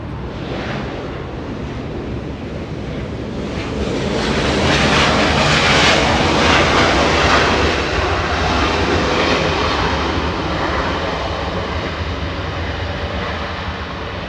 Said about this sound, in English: Spirit of Canada, 737 getting a move on. A departure flying to Vancouver this afternoon, a 737-700.